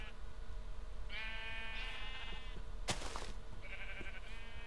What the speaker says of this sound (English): Be quiet, sheep.